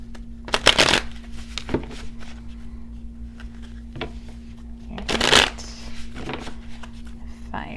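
A deck of Dream Enchantress tarot cards is shuffled at close range, with several quick riffling bursts separated by softer handling and pauses, over a faint steady hum.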